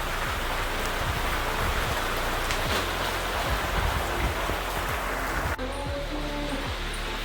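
Heavy first monsoon rain pours steadily onto surfaces at a rural home, a dense continuous hiss with scattered drop impacts throughout.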